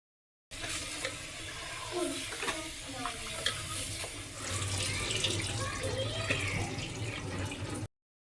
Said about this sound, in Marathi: हे जे तांदूळ आहेत आता पुन्हा आपल्याला 2 ते 3 पाण्याने छान स्वच्छ धुवून घ्यायचे आहेत